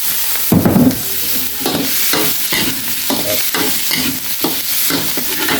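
CP catfish is stir-fried in a pan, giving a loud, continuous sizzle close by, with rhythmic scraping strokes of the spatula and a heavier clatter near the start.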